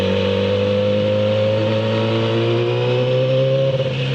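A loud motorcycle engine holds a steady, droning hum close to the listener, with its tone wavering slightly near the end and no talk over it.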